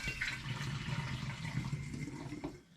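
Home-brewed apple cider is poured from one glass demijohn into another, a steady splashing, gurgling stream of liquid at close range that thins and stops near the end, with no talking.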